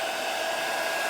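A heat gun warms the frame of a Samsung Galaxy Tab 3 during a cracked-screen repair, giving a steady, close, continuous blowing whir with no pauses and no talk.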